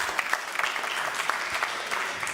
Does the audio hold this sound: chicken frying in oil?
no